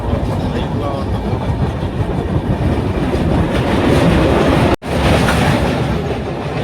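An Indian Railways passenger train runs on the Visakhapatnam to Secunderabad route, a loud, steady rumble heard from inside with faint rhythmic wheel clatter and one brief dropout near the end.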